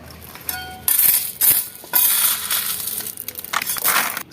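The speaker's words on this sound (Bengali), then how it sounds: "এবার আমি এতে মাটি মেশাবো।" Stones being stirred into soil for planting a tree, giving a run of gritty crunching and clinking scrapes in uneven bursts, close and fairly loud, with no talking.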